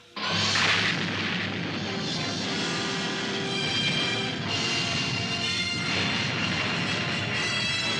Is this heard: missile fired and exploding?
yes